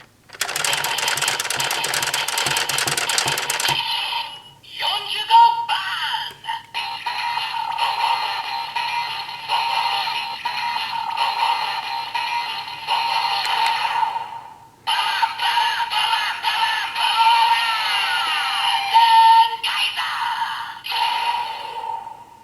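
A DX Geartlinger toy blaster is cranked, with a dense ratcheting burst at first, then its trigger sets off a long run of loud electronic transformation jingles and effects, played up close.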